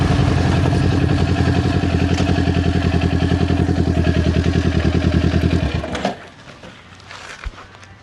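A motorcycle engine drones loudly with rapid rhythmic pulsing as the bike runs off the road after the rider loses control, then cuts out abruptly near the end, leaving faint clatter and a brief thump.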